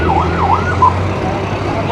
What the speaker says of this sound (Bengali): একটা অ্যাম্বুলেন্স পাইছি